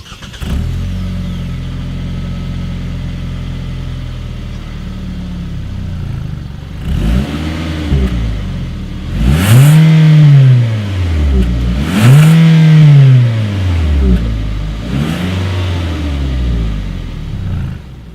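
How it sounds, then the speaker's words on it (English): A 2019 Hyundai Tucson SUV engine idles, then revs loudly several times through its exhaust, each rise and fall in pitch clear and close, with no talking. "As always, here is that exhaust clip."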